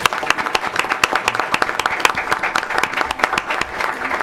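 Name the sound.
audience applause at a school board meeting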